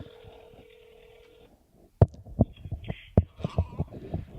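An outgoing phone call gives a steady ringback tone through a handset for about a second and a half, then a short silence gives way to close clattering and handling noises and brief voices.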